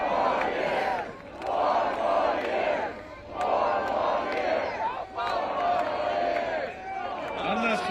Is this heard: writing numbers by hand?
no